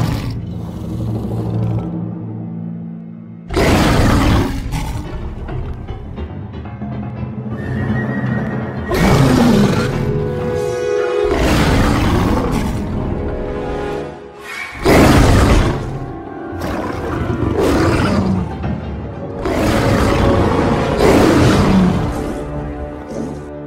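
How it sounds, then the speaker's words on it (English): A female Smilodon, an ancient saber-toothed cat, lets out a series of about six deep, rough roars echoing across a valley, each lasting a couple of seconds, loud and close, with no speech. "Her roars have echoed across the valley, and the male surrenders."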